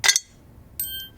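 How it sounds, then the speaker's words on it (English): Ice cubes clinking into a blender jar already holding frozen mango for a smoothie: a short bright clatter at the start, then a second lighter clink a moment later, close and fairly loud. "Throwing in this frozen mango, all right, that's good. Ice cubes."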